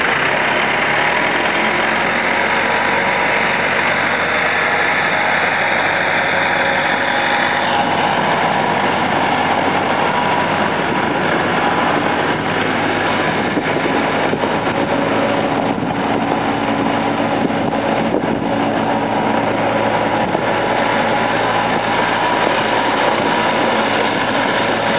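A 2000 Manitou M430CP machine's engine runs continuously throughout, a steady close diesel rumble and drone holding at a constant level with no talking.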